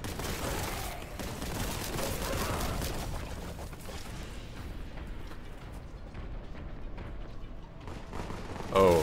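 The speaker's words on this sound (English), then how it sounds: "Oh, a shotgun?" Rapid shotgun blasts in the retro shooter Boltgun, a dense, continuous barrage of loud gunfire with mechanical clatter, unbroken for several seconds and ending in a brief louder burst.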